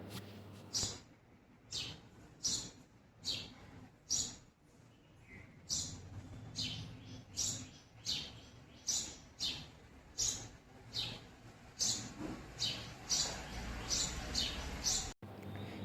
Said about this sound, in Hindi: ये जो पक्षियों का मधुर कलरव अभी अभी आपने सुना, ये आर्टिफिशियल नहीं है।